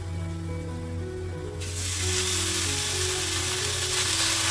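Beef hits a hot pan of lightly browned garlic for bistek Tagalog, and a loud, steady sizzle erupts suddenly and holds at full strength over a low background hum.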